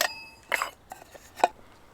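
Metal kettle set down on a Trangia camping stove, a few faint, sharp clinks and clatters spaced out with quiet in between, close by.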